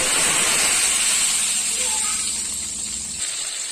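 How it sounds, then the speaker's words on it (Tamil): Tamarind extract sizzles loudly in a hot pan, a constant bright hiss that gradually softens toward the end. "போட்ட புளி கரைசல் வந்து நல்லா கொதிக்க ஆரம்பிச்சிருச்சு"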